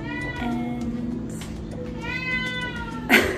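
Indoor cats meow repeatedly in close, clear, drawn-out calls that overlap one another, ending with a sharper cry.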